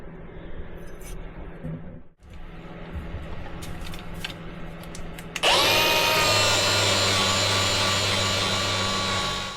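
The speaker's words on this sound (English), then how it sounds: "while I was sharpening the blade for the chipper" A power tool sharpening the blade of a DR wood chipper during a repair, quiet workshop handling noise first, then a loud sustained grinding whine that runs to the end.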